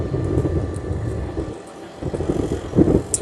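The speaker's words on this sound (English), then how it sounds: "Another windy day here." Gusty wind buffets a microphone outdoors on a windy day, a steady low rumble with louder bursts near the end and a brief lull in the middle.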